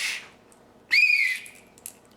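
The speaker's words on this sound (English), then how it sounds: "if you need help, you can blow the whistle" A handheld emergency whistle gives one sharp, loud shrill blast of about half a second, preceded by a brief hiss and followed by a faint short chirp, with no voices.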